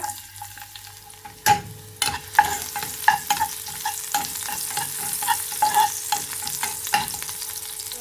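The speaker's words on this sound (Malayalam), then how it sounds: "ചൂടായ നെയ്യിലേക്ക് ഒരു മൂന്ന് ചുവന്നുള്ളി ചെറുതാക്കി കട്ട് ചെയ്തത് അത് ഇട്ട് കൊടുക്കുന്നുണ്ട്" Chopped shallots fry in hot ghee with a bright crackling sizzle, overlaid by frequent clattering stirs and spoon knocks against the pan that grow busier after a sharp clang.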